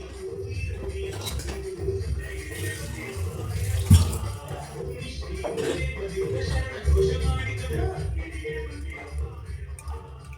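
Water is poured over a sleeping person's head at home, a continuous splashing and gushing wash with low rumbling handling noise and muffled voices beneath.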